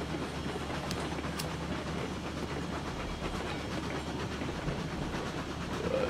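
Locomotive 1024 rolling along the rails in the video game RailRoads Online, a steady continuous rumble with faint rhythmic clatter and hiss, moderately loud and unbroken throughout.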